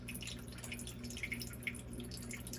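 Water dribbles weakly from a GE dishwasher's spray outlet into the basin, a faint steady trickle with soft irregular drips over a low machine hum.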